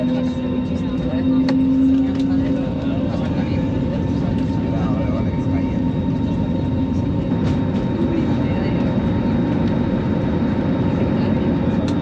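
A steady, loud jet engine roar fills the cabin as an airliner accelerates for takeoff, with a constant rumble and faint tones throughout.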